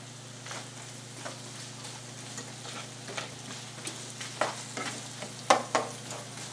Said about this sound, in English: Oil. Okay, throw the garlic in.